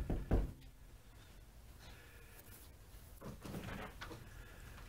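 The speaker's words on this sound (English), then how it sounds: "let's knock on her door" A loud burst of knocks at a front door, struck near the start and then fading into quiet room tone with faint shuffling as someone comes to answer.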